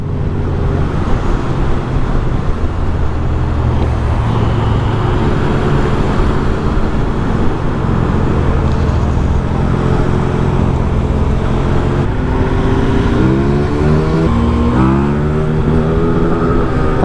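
Loud, continuous engine roar of a KTM 1290 Superduke R and a Triumph 1200 RS naked motorcycle at speed on the road, with rising revs and gear-shift pitch sweeps near the end, heard close and without talk.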